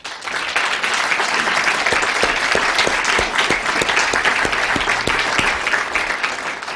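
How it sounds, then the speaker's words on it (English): Sustained applause from a seated audience honoring state legislators at a university's State of the University address, dense steady clapping that fills the hall for several seconds. "let us give you a round of applause"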